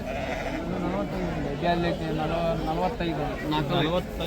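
Sheep and lambs bleat repeatedly at the Ranebennur sheep market, a steady chorus of overlapping calls close by, mixed with people talking throughout.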